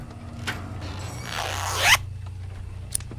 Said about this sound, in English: Zipper on this cushion's stuck.